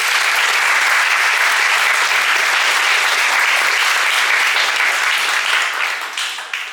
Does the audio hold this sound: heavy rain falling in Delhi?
no